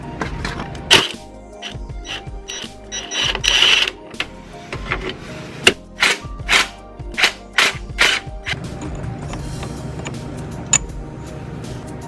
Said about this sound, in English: now I'm going to try taking an impact and lightly trying to break this piece loose